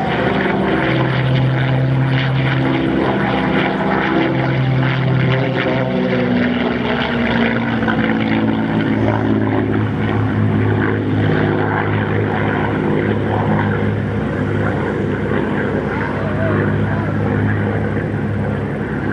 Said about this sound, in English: I hear the sound of the engine increasing.